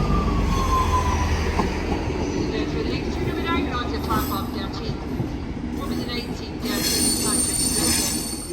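A Class 158 diesel train pulls out of a station with its wheels squealing on the rails, a loud continuous rumble with metallic screeching and a faint clatter, close by, while someone speaks over it.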